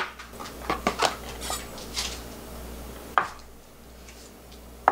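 A knife taps a cutting board in a quick run of chops through green onion, followed by a few isolated knocks in a quiet kitchen.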